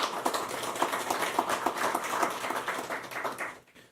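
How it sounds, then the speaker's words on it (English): Conference audience at an opening session applauding together, a steady, dense wash of many hands clapping that holds for several seconds and then quickly fades to silence. "I really want you to give yourselves a round of applause"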